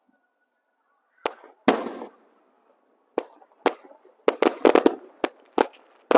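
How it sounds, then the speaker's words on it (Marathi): Firecrackers go off at a Hindu religious gathering, a series of sharp, loud bangs and pops with irregular gaps that cluster into a rapid burst near the end. "फटाके आपल्यासाठीच फुटतायत असं समजून घ्या."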